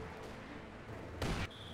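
A Maxim machine gun fires during a 4v4 Company of Heroes 2 battle on a winter city map, a short loud burst of gunfire lasting about a quarter second and rising above a steady wash of battle ambience.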